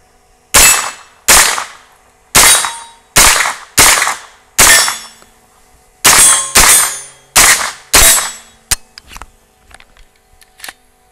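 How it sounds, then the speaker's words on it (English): An AR9 carbine fed from a Glock 19 magazine fires about ten sharp, loud shots at an outdoor range, spaced roughly half a second to a second apart, each ending in a short metallic ring, then a few softer clinks. "let's send some lead down range"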